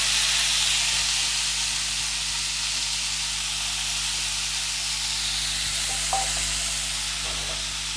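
Manathakkali greens frying in oil give off a steady, loud sizzle and hiss that runs evenly throughout, with a faint stir or clink of a spoon near the end.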